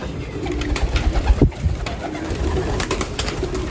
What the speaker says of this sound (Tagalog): Ito na yung mga ibon ko, mga kalapatids.